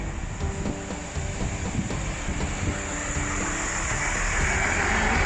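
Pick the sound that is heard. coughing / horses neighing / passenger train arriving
passenger train arriving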